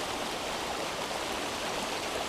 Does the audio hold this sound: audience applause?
no